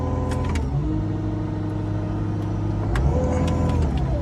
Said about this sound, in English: As I lift up my foot, you go back to high idle.